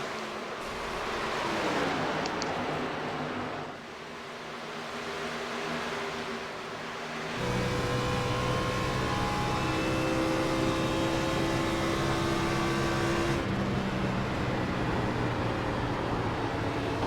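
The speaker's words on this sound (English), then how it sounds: "Seems like got a little bit of actual racing going on here." Xfinity Series stock cars race at Chicagoland, their engines a steady, loud roar throughout, with rising and falling tones as cars pass, growing fuller and denser in the second half.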